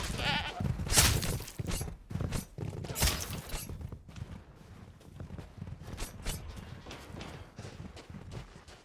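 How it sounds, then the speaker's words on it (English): A goat bleats repeatedly in the VR mode of Resident Evil Village, several loud, wavering calls close by, with hoof clops or footsteps scattered between them. "Oh, hello, Mr. Goat."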